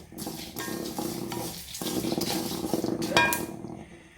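Masala spice powder dry-roasting in a pan while a spoon stirs it continuously, giving a steady close scraping and rustling with a light sizzle and occasional metallic clinks.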